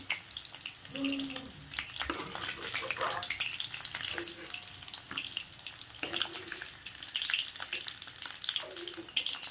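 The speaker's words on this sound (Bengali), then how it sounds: "মাছগুলো কিন্তু আমার সুন্দর করে ভাজা হয়ে গেছে" Oil sizzles and crackles steadily as fish fries in a pan, with occasional stirring clatter and splashy, watery noises underneath.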